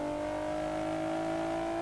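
A turbocharged car engine in the racing game Assetto Corsa holds a loud, steady high-pitched whine with a constant tone and no pauses, heard alone without any voices.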